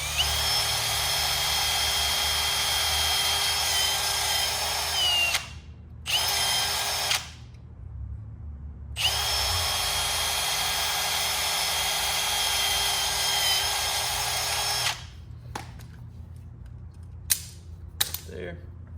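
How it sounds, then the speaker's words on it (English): A power drill whirs loudly in long steady runs, drilling rivet holes for wheel lights, stopping briefly between holes, then a few sharp clicks and knocks at the end. "go ahead and drill our 2 holes evenly spaced."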